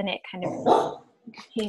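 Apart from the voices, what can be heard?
dog barking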